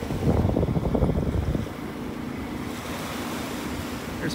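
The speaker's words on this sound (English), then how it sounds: "You can hear the dredging barge in the background." A dredging barge works offshore at the north end of the beach at Wiggins Pass, North Naples, Florida, giving a faint, steady low drone under louder surf and wind rush.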